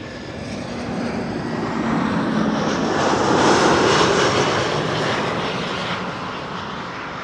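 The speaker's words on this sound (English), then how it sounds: "behind me, Iberia, flight 731, an A319," An Iberia Airbus A319 arriving from Madrid passes behind at Amsterdam Schiphol, a loud, broad engine roar that swells to a peak midway and slowly eases off, continuous and alone without voices.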